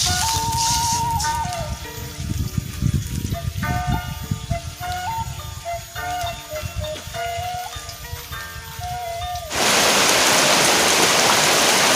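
Heavy rain pours onto a small outdoor hut, a steady loud hiss that surges in abruptly near the end after a stretch of tuneful music with no rain.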